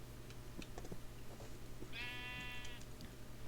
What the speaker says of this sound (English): Right, I have a sheep in the village.